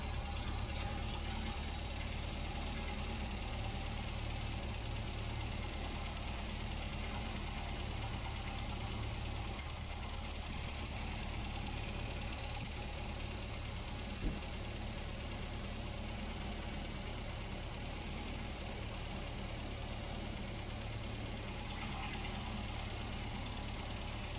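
A 1967 MGB Mk1 engine idles steadily at low volume during carburettor tuning, a continuous low rumble with one faint click partway through and no talk.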